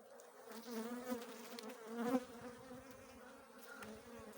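Honeybees on a hive frame hum in a soft, steady drone at close range, a low buzzing that swells and fades slightly.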